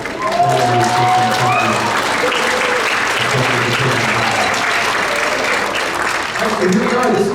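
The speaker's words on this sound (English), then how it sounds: "One more big round of applause for the band boosters" Sustained, loud audience applause fills a school winter concert hall for the band boosters, a steady wash of many hands clapping with crowd murmur and voices underneath throughout.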